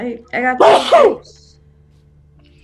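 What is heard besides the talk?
sneeze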